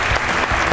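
An audience at a no-rules fight night applauds the fighters with a dense burst of clapping close by, heard alone.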